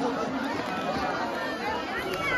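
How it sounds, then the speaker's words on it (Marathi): At night a crowd leaves a village temple fair, and many voices blend into a steady, dense babble of chatter and movement with no single voice standing out. "लाट संपल्यावर लोक जाणाऱ्यांची गर्दी बघा."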